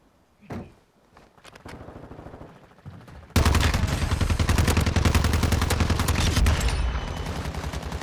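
Heavy, continuous automatic gunfire in Call of Duty Warzone 2, a dense burst of rapid shots from about three seconds on, preceded by a few scattered single shots and low background rumble; loud and close, with no talk over it.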